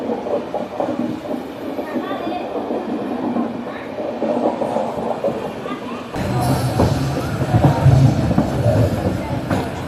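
MEMU passenger train running toward Saharanpur Junction, a continuous rumbling roll of wheels and carriage that swells louder and rougher in the second half, heard from on board without clear talk.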